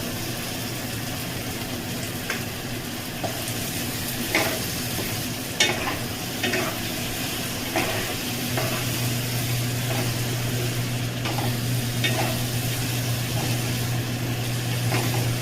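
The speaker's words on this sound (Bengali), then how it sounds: "আরও 2 মিনিট আমি মশলাটা কষে নেব" Spice paste with ground cashew and melon-seed paste being fried and stirred in oil with a little water for an echor (jackfruit) kofta curry, giving a steady close sizzle broken by repeated scraping strokes of a spoon against the pan.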